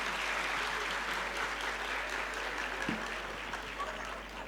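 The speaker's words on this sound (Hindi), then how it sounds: "इन बच्चों के लिए जोरदार तालियां बजा दीजिए।" Audience applause for young nursery-class children at a school annual function, a steady dense clapping that holds for several seconds and tapers slightly toward the end.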